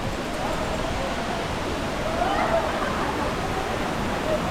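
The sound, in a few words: Mantayupan Falls waterfall, Cebu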